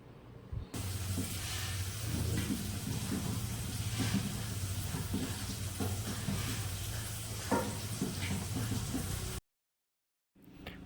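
Tempering for dal sizzles and crackles steadily in oil in a pan for several seconds with a faint low hum, then cuts to silence near the end.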